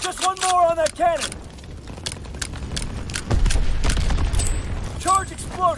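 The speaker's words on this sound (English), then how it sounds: "Charge exploded." A demolition charge detonates in a WW2 multiplayer game, a deep rumbling blast rolling in midway amid battle noise, with voices shouting before and after.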